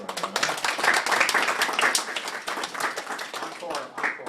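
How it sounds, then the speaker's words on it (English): Audience applause at a poetry reading, a dense, steady clatter of many hands clapping close by for the full stretch, with voices mixed in underneath. "I don't need the applause"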